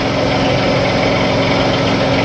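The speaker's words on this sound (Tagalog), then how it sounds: "Patay mo nga yung makina" A Hino 700 truck engine idling during an airbag suspension repair: a steady, even mechanical drone close by, loud and unbroken, with no voices over it.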